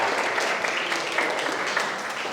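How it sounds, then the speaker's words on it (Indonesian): Applause from a classroom of students after group presentations, a steady dense clapping that holds at an even level throughout, moderately loud, with no talking over it. "Tepuk tangan untuk kita semua"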